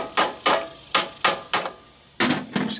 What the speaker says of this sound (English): We get a hammer and tap on it.